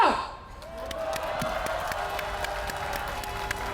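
At a youth rally in Gyeongnam protesting Japan's release of Fukushima radioactive water into the sea, the outdoor crowd claps and cheers. A brief swell opens into steady, moderately loud applause.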